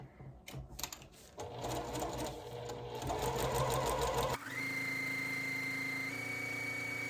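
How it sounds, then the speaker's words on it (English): A sewing machine stitches along the marked lines of a pinwheel star quilt block, a steady close mechanical whir that runs continuously and changes pitch partway through. "just keep sewing on the lines"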